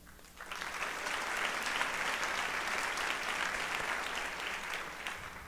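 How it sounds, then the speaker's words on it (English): A round of audience applause at a high school achievement awards ceremony, rising quickly to a steady, fairly soft wash of many hands clapping and fading slightly at the end. "how about one more round of applause for our Assistant Principal?"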